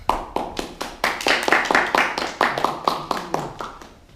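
A small audience claps for the Toastmaster at a student Toastmaster Speakathon, a close, moderate burst of distinct hand claps of uneven rhythm that thins out after about four seconds.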